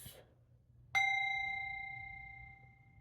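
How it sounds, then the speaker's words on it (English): A single bell is struck once and rings on with a clear, sustained metallic tone that slowly fades over about two seconds, heard alone against a quiet background. "The bell has rung"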